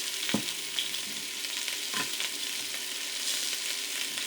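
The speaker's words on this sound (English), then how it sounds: "You want to hear that nice sizzle." Goat meat pieces sizzle in vegetable oil in a pan, a steady close frying hiss with a few soft clicks of stirring or meat shifting.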